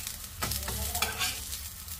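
Pui saag (Malabar spinach) leaf pakodi frying in hot oil, a steady close sizzle with scraping stirs and bubbling bursts, no voices.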